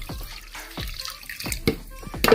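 Tap water runs into a cooking pot in a kitchen, filling it for boiling chicken, a close, steady splashing pour with small bubbling and dripping changes as the level rises.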